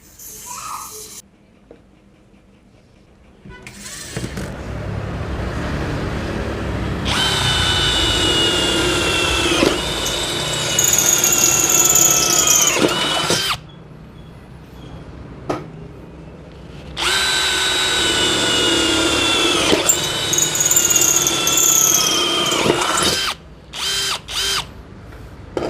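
An NRT PRO DC 740 cordless brushless impact drill whines loudly in two long bursts of several seconds each, winding up and down near the listener with brief quiet gaps between.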